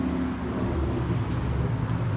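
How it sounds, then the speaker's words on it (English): Loud, steady road traffic rumbles continuously beside a home garden with flower beds and barrel-grown wildflowers, a low broadband roar with no breaks. "Sorry for the traffic, it's kind of loud."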